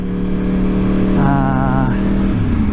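A Yamaha R1 RN22 sport motorcycle engine drones loudly and close as the rider gently eases off the throttle, the pitch sagging toward the end.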